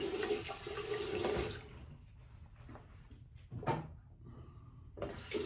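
A bathroom tap runs strongly during a wet shave, then cuts off, leaving quieter splashes and a few sharp knocks before the water bursts on again at the end.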